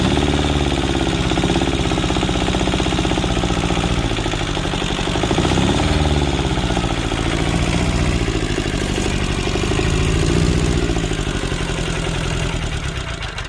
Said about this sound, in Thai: เร่งเครื่องหน่อย